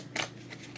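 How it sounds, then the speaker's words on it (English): A deck of playing cards is riffled once in a quick, close burst, followed by a couple of fainter card flutters in an otherwise quiet room. "Shuffling cards is kind of relaxing."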